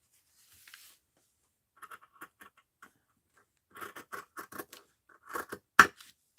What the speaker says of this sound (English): I think I'll cut this out